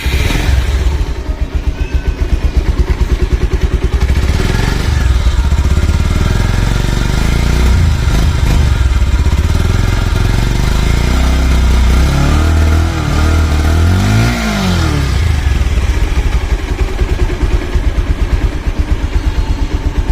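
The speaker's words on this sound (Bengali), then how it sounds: "বাইকটির সাউন্ড কন্ডিশন" Bajaj Pulsar 2022 model motorcycle engine idling close by, a loud, steady throbbing putter with a few light blips of throttle midway.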